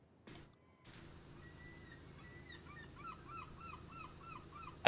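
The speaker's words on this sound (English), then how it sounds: "I feel like that seagull's laughing at me." A seagull in the PowerWash Simulator video game calls in a run of repeated, laughing squawks that quicken toward the end, over a low steady background hum, faint and somewhat distant.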